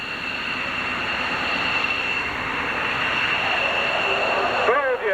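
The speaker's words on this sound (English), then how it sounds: "coming in from the right, the two F-15s on landing approach" Two F-15 jets on landing approach at an air show roar loudly and steadily throughout, a broad continuous jet rumble with a thin high whine, close and unbroken to the end.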